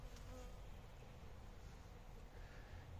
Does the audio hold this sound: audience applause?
no